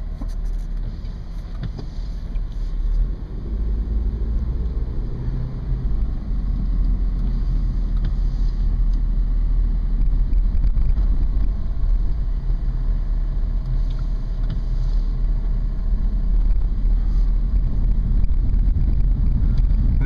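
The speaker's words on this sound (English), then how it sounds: "we'll go ahead and take this one for a test drive" A Honda CR-V with about 103,758 miles on a test drive gives a steady low road and engine rumble from inside the cabin, constant and moderately loud for the whole stretch, with faint wind noise and no talking.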